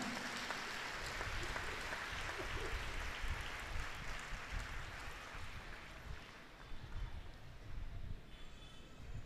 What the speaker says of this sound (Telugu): గట్టిగా చప్పట్లు కొట్టుకొని దేవుని వందనాలు